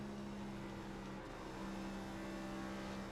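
Next Gen NASCAR stock car engine in iRacing at Kentucky, a steady loud droning hum with a sustained tonal whine as the throttle is fed in gradually, continuous and unbroken with no talk.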